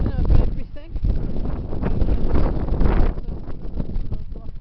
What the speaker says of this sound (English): When it stops being windy.